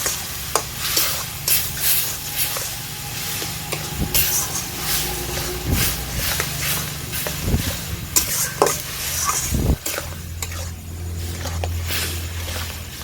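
Raw mango chutney with sugar is stirred in a pan, a spoon scraping and knocking in repeated strokes over a constant low sizzle, close and fairly loud, with no talking.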